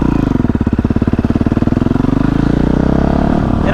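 A Yamaha YZ450F supermoto thumps loudly and close, its single-cylinder engine pulsing rapidly as it revs, then settling toward a smoother drone at the end.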